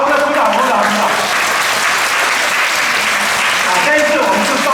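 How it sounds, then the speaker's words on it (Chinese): A church congregation at a Sunday school summer camp breaks into loud, sustained applause, many hands clapping together with some voices mixed in beneath. "这鼓掌"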